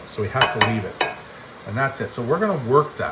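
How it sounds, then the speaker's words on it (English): Ground beef browns in a pan with a crackling sizzle and a few stirring scrapes, heard under someone talking for much of the time. "That's the sound of fat and meat caramelizing together."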